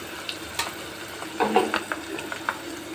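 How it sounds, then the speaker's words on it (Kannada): Garlic and green chillies frying in a pan make a soft sizzle with scattered stirring scrapes and clinks of utensil against pan, and a busier burst in the middle. "ಫ್ರೈ ಆಗೈತೆ ಇವಾಗ ಬೆಳ್ಳುಳ್ಳಿ ಮತ್ತು ಮೆಣಸೆಕಾಯಿ"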